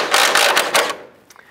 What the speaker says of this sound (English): Now we're going to use our 18 millimeter socket and extension to remove these four nuts.